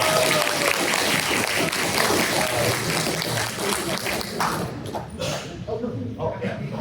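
A convention panel audience applauds and cheers at Anime North, dense clapping and crowd noise that thins out toward the end.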